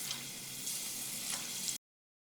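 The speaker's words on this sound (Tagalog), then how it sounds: "Medyo deep fry ang gagawin natin dito." Dynamite balls, chili peppers wrapped in molo wrapper, deep-fry in hot oil. The sizzle is a close, steady, crackling hiss with no voices, and it cuts off abruptly.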